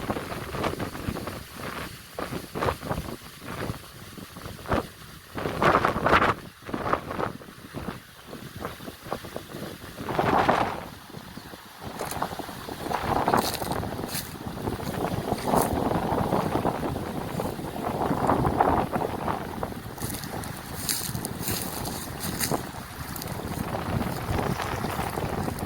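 Strong gusting wind roaring around a park shelter at Antelope Lake County Park in Kansas, heavy rumbling buffeting on the microphone that rises and falls in waves, with no one talking.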